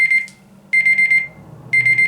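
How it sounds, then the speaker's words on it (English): An electronic timer alarm beeps in loud rapid bursts, three groups spaced about a second apart with silence between, close and alone. "You put a timer on rather than a stopwatch."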